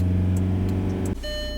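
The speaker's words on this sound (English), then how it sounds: "I've been letting this car warm up some" A 2005 Volkswagen Jetta engine idles steadily while warming up on a cold day, a loud, even drone with strong low harmonics that drops abruptly to a quieter, thinner tone partway through.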